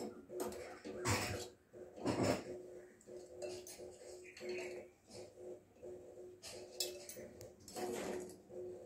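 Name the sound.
boiled eggs placed one by one into bowl of ice water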